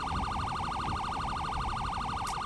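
A police car siren in GTA 5 wails in a fast, steady rising-and-falling yelp, loud and continuous throughout.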